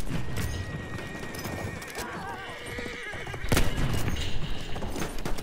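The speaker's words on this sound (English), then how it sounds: "Enemy horse rider! Over there!" In the Battlefield 1 video game, a horse whinnies loudly near the listener while hooves clip-clop at a gallop, amid battle rumble and distant gunfire, the hoofbeats and booms swelling in the second half.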